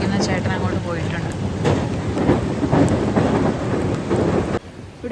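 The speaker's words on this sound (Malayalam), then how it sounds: "ഇവിടെ ഇപ്പം മഴ പെയ്തുകൊണ്ടിരിക്കുകയാണ്." Steady rain pours in North Sikkim while thunder rumbles in deep, rolling swells, with faint drips and splashes on top; the sound cuts off abruptly near the end.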